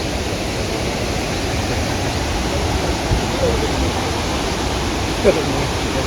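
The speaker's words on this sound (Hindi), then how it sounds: "नीचे यहाँ से गिर जाता है पानी इस तरह का" The tall Krang Shuri waterfall pours down from a height, a loud, steady broadband roar of falling water that fills the whole stretch, with a couple of faint brief sounds over it.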